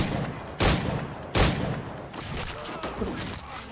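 Gunfire in the pirate-era action game Assassin's Creed IV: Black Flag, two loud sharp shots early on followed by a scatter of fainter rapid pops and clatter of combat.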